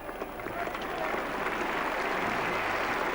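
Cricket crowd at Lord's applauding a bowler during a 1980 England v West Indies Test, a broad distant patter of clapping that swells and holds steady, with faint commentary voices underneath.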